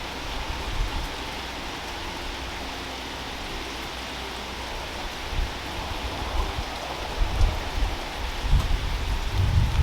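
Steady heavy rain from Hurricane Ian hisses throughout while gusts of wind rumble and buffet, growing stronger toward the end.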